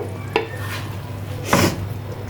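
Fried vegetables are stirred into cooked-down masala in a frying pan, giving two short scraping clinks of a spoon over a steady low sizzle, close by, with no talking.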